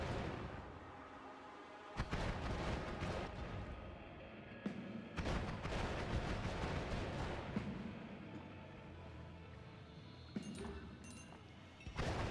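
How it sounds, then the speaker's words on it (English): Bomb blast from a chest in the Noita video game, a sharp explosive crack followed by rumbling debris and further scattered pops and crashes, moderately loud. "Nothing like a chest with a bomb in it."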